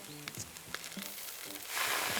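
Bacon sizzles and crackles in a hot frying pan outdoors by a river, with scattered pops and a hiss that swells louder toward the end.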